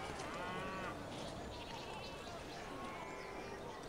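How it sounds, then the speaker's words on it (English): Sheep bleat softly in Civilization V over a constant faint ambient wash of game sound, the calls quiet and wavering rather than prominent. "Sheep."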